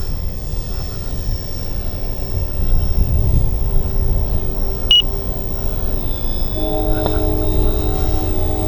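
Twin-motor RC model OV-10 Bronco airplane running on 4500 packs, a steady whirring motor drone with high electronic whines and a brief beep, faint talk underneath.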